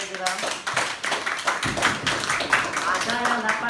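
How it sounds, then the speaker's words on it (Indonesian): A school class claps their hands together in a classroom, making dense, lively applause that runs throughout, with a teacher's voice speaking over it. "Ini tepuk tangan sama kalian"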